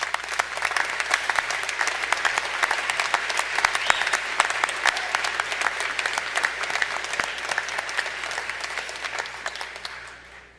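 A commencement crowd applauds the university faculty as they stand, loud, dense clapping sustained for about ten seconds before tapering off at the end.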